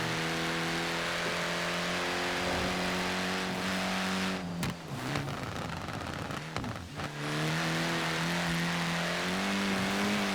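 A Voodoo-engined car revs hard in Forza Horizon 4, a loud steady engine drone with harmonic layers that drops out briefly with tire noise and shifting, then climbs again, no talking.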